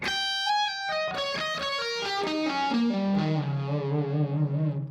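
Distorted electric guitar with effects plays a descending dominant 7th arpeggio lead pattern, a rapid run of ringing notes that steps down in pitch and settles on a sustained low note, close and alone.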